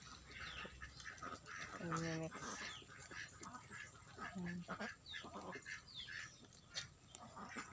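Domestic ducks on a farm quacking and honking in short bursts at close range, mixed with people talking throughout.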